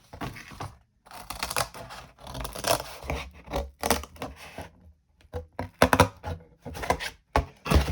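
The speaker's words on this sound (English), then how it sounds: "Now I need to cut this out using the scissors." Scissors snip through paper or card while cutting out a roof part for a model, a series of short crisp cuts in uneven bursts separated by brief pauses.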